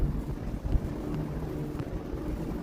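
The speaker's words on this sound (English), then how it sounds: "It's fucking windy." Strong wind roars steadily against the microphone, a constant low rumble with occasional harder buffets and no voices.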